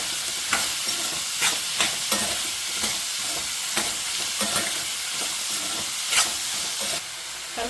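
Bottle gourd curry is stirred in a sizzling pan: a steady hiss of frying with regular scraping and clinking strokes of a spoon across the pan, close up and alone.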